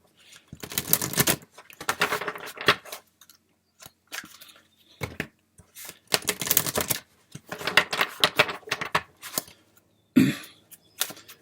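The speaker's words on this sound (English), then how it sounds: "we'll just have a couple of more shuffles." Tarot cards are shuffled in several quick, crisp bursts of riffling and flicking, close and clear, separated by short pauses with a soft thump near the end.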